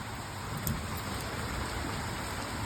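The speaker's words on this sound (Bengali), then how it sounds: "মুষলধারে বৃষ্টি" Heavy rain pours steadily in the early morning, a dense, unbroken wash of close drumming with no pauses across the whole stretch.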